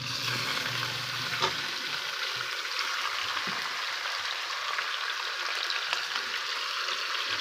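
Chicken frying in ghee for a degi-style korma, a steady close sizzle with faint stirring clinks, alone without talk.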